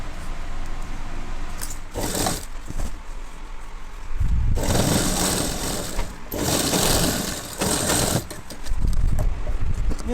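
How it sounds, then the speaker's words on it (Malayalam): Sewing machine stitching a 2-inch folded hem on a school uniform pinafore skirt, running in several separate bursts of steady mechanical whirring with short pauses between them, close and fairly loud. "ഒരു 2 ഇഞ്ച് വീതിയിൽ തയ്ക്കാം."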